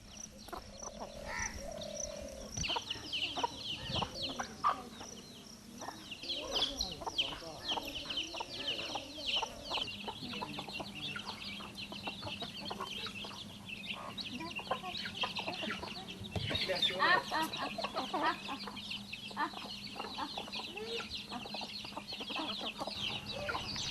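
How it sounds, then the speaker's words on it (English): Backyard chickens cluck and call around a tribal village home in central India, mixed with a dense outdoor chorus of croaking frogs and other birds, steady and moderately near throughout with faint voices now and then. "Almost all families in tribal villages in central India own and rear poultry in their homes."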